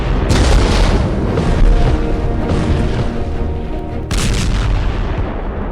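Dense, continuous booming and rumbling from Israeli strikes on Yemen, Tehran and Gaza, like heavy explosions or artillery blasts, loud and sustained with a sharp fresh burst near the end.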